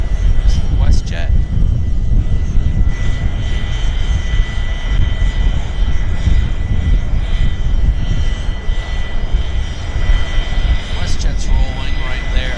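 A WestJet airliner rolls at Vancouver airport, its engines a steady, loud broadband roar that holds throughout, with voices talking over it.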